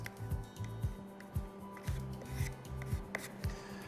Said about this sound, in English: Squish it in the holes and then scrape it back off.